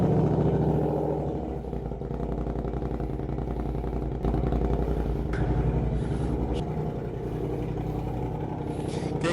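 An upgraded Yamaha Aerox scooter runs close by, its engine a steady, throaty low rumble with rhythmic exhaust pulsing, swelling briefly as it is revved.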